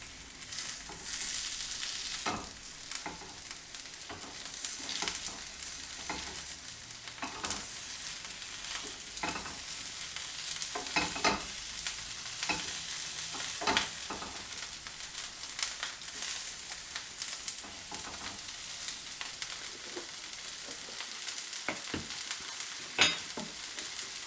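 Hake fillets pan frying give a soft, steady sizzle, with occasional light scrapes and taps as they are turned, fairly quiet and with no talking.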